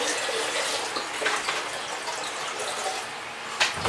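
Water pours steadily into a small 2-liter fish bowl, a continuous close splashing rush with slight surges and no talk.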